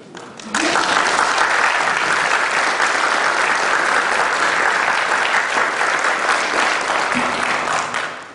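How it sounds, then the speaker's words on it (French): A conference audience breaks into loud, sustained applause for the speakers, starting abruptly and holding steady before fading, with a brief voice underneath. "je vous demande de faire un tonnerre d'applaudissements"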